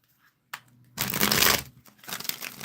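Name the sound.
tarot cards being shuffled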